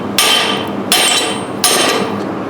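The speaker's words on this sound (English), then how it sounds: "I am hammer checking it to make sure that they're stuck good and solid." Three sharp, loud metallic hammer strikes on steel pieces welded onto skid steer tracks, evenly spaced about three-quarters of a second apart, each ringing briefly before fading, with no talking.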